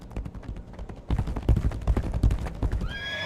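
Hooves pound in a fast gallop from a horse in the video game Legacy of Kain, a quick close clatter that starts softly and then strikes harder and louder, ending with a short rising whinny.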